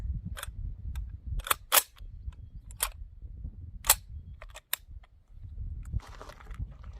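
PSA AKP rifle firing outdoors, a series of about eight sharp, loud shots spaced irregularly over several seconds, with low rumbling background noise between them.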